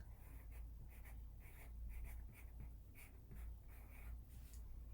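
A pen or pencil writes on paper, with steady scratchy strokes in short repeated bursts, close and soft over a low background rumble, no talking.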